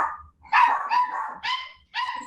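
Several dogs bark excitedly at a home as someone arrives to wash them, a run of quick, close barks and yips in short bursts with brief pauses between.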